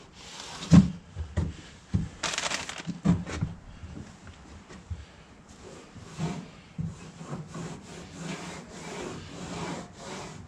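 Road grime is scrubbed off a Jeep Gladiator truck bed ledge, making irregular close rubbing and scraping strokes with occasional soft knocks, fairly quiet and without talk.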